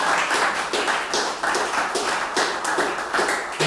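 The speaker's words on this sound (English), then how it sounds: "So if we can all give a round of applause" A conference audience at a Bitcoin event in Montreal applauds, giving a close, crisp patter of many hands clapping in irregular bursts that continues steadily throughout.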